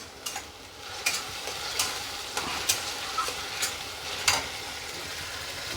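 Masala spice paste frying at high heat in a pan for Bengali bhetki fish kalia, a steady sizzle broken by regular scraping stirs roughly every half second, close and clear with no talk.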